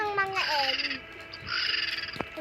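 A bird calls in a video game with two bright, tonal bursts, each a rising warble, close and fairly clear over faint background sound.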